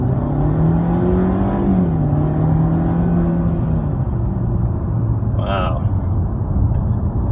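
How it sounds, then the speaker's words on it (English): Mercedes W204 C180 with a RaceChip XLR unit, its engine note rising and falling under gentle throttle taps in a steady close rumble, while a person's voice briefly exclaims near the end. "I'm just gently tapping the gas pedal now."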